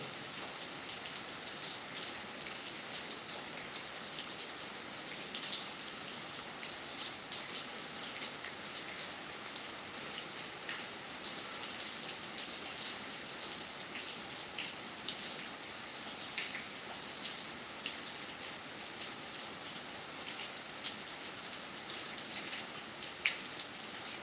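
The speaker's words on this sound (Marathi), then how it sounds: "हे पाऊस म्हणजे आता दहा मिनटं झाला पाऊस चालला" Rain easing after ten minutes of falling in Pimpalgaon Khadki, Ambegaon, Pune, heard from under a shed as a faint, steady patter with scattered louder drips, no talking.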